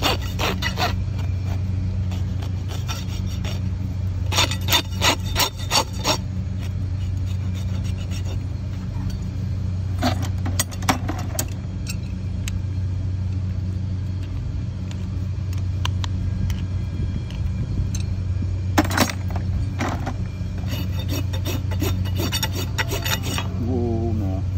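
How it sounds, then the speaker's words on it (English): A farrier's rasp files a horse's hoof in clusters of rough scraping strokes, with pauses between bursts, over a constant low rumble like an idling vehicle nearby. "Do you notice when he flips the rasp?"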